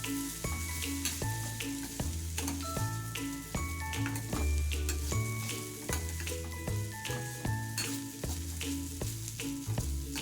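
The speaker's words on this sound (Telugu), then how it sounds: "తర్వాత ఫైనల్గా మనం స్క్రాంబుల్డ్ ఎగ్ కూడా వేసి మిక్స్ చేసుకుందాం." Scrambled egg being mixed into semiya in a pan produces a continuous sizzle with repeated spatula scrapes in a steady rhythm, close and fairly loud, with no speech.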